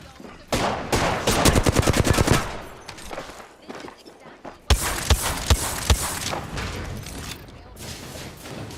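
Rapid bursts of gunfire in Apex Legends come in dense, close volleys of automatic shots, easing off near the middle before loud shooting resumes and continues to the end.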